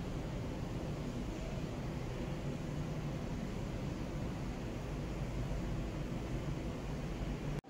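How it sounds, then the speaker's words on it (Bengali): An air cooler blows cold air in a steady, broadband whoosh that holds even and loud from start to finish, with no voices. "এখানে একটা কুলার লাগানো"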